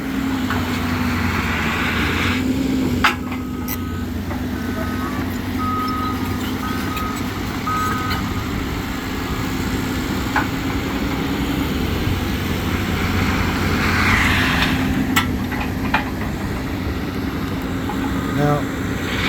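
A skid steer works on a construction site for soil stabilization, its steady engine drone and faint mechanical clatter running continuously, with a few high tonal beeps mixed in and no talk.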